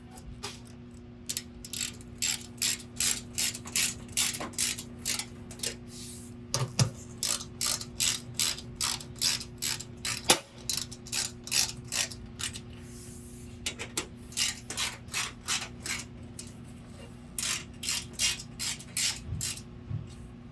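Mounting bolts on a stove control board are tightened with a ratchet, giving steady runs of quick, sharp metallic clicks in bursts with short pauses, close and moderately loud, over a low steady hum with no talking.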